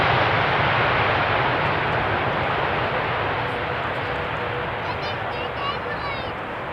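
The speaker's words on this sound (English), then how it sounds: "Otherwise, a very smooth landing." Airliner landing on runway 18R at Amsterdam Schiphol Airport, a steady loud broadband roar of engines and rollout noise that slowly eases, with faint voices near the end.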